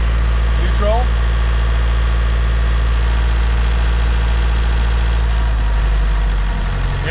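A sailboat's inboard engine idles in neutral, a steady loud low drone with constant vibration throughout, while people talk over it.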